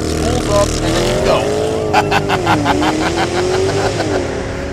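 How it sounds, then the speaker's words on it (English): A 2014 Porsche Panamera Turbo launches hard with traction control off and Sport Plus engaged, its engine revving loudly up close, the roar climbing and surging in pitch as the car accelerates. "Traction control is off, Sport Plus is engaged, left foot on the brake, right foot on the gas, spools up, and then you go."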